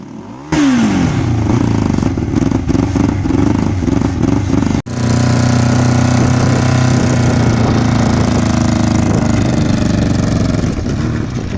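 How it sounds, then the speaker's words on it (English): A dune buggy engine starts near and loud, then runs with small throttle blips to fill the carburetors, cuts out briefly and restarts into a steady, rough idle. "I was giving a little bit of gas in order to fill the carburetors"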